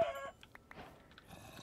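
Minecraft chickens give a few short, soft clucks in a brief moment with a faint background tone.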